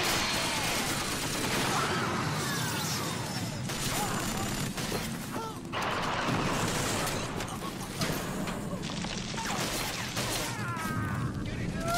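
Dense gunfire and crashing battle noise from the Killzone opening cutscene, a sustained roaring barrage with scattered shots and mechanical clatter running steadily throughout at moderate level.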